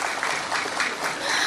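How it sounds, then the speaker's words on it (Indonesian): Brief burst of applause from a crowd at an Islamic study gathering, dense clapping lasting just over a second at steady volume. "tepuk tangan dulu dong"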